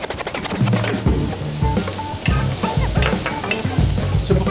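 Garlic sizzles loudly among browned vegetables in a hot pan for braised lamb shanks, a dense steady frying crackle with repeated scraping stirs and no talking.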